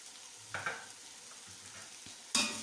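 Chili powder and garam masala stirred in a pan for chicken biryani: a faint steady sizzle with a few soft scrapes of the spoon, then a louder burst of stirring near the end.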